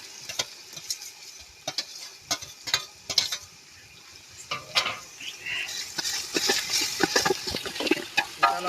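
Tomatoes tipped into a pan of frying vegetables for a Kathiyawadi dish, with sharp spoon scrapes and clinks against the pan over a rising sizzle that grows louder and denser toward the end.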